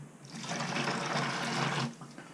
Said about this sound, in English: Let's add the boiling water while it's nice and hot.